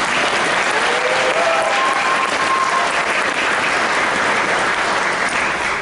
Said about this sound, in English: So you can give him a round of applause